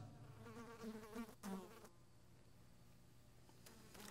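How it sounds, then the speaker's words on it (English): Flies buzz in a quiet indoor space, a cluster of wavering drones heard mostly in the first two seconds, then fading to a faint steady hum with a brief high whine near the end. "I'd rather listen to the flies buzz."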